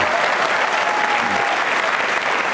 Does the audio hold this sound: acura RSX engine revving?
no